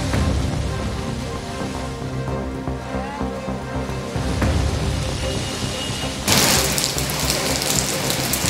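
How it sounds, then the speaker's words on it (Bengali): Heavy rain pours down on a Kolkata street during a monsoon downpour, a dense steady hiss that swells louder and brighter toward the end. "ফের বৃষ্টি শুরু হলো কলকাতায়।"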